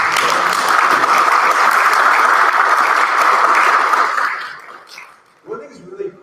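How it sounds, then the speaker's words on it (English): A large audience at an evening session of a creation science expo breaks into dense, sustained applause for about four seconds, then the clapping thins and fades away. "So let's give him a round of applause for that."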